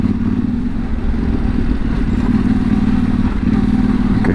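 A Yamaha Tenere 700 motorcycle rides over rocks and slippery mud with a loud, close engine drone under constant rumble and clatter from the rough ground, holding steady throughout.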